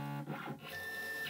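CNC machine servo motors whine steadily and faintly as they drive a 3D touch probe across its 20 mm travel during an XYZ test, with a brief tonal hum and no talk.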